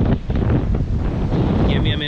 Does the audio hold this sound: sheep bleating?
no